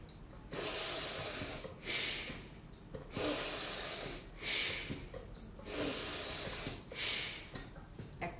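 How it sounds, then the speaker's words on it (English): Deep, slow breaths through the nose, equal inhale and exhale, heard as long airy hisses alternating in a steady rhythm, close and fairly quiet, repeated about three times without talk. "Equal inhale, equal exhale."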